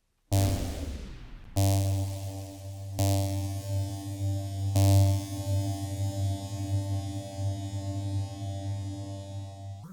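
A Serum 2 hall reverb patch sounds four struck synth tones in sequence, each sustaining with a long, humming reverb tail that stacks and lingers at moderate volume.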